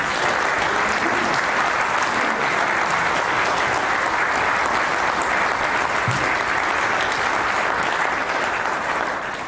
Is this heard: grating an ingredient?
no